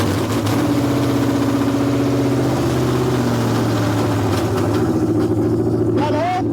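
A freshly installed engine in a car being built up with bigger tires cranks and catches, then settles into a steady, loud idle with strong low rumble, while people talk over it.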